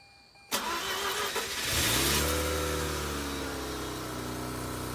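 A Mazda RX-8 with a crankshaft position sensor fault cranks and fires up after half a second of quiet, settling into a loud, steady, fast idle that slowly eases down, close by with no talk.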